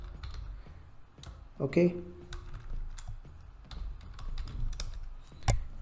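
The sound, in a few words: typing a search on a computer keyboard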